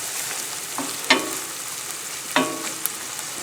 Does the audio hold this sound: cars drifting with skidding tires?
no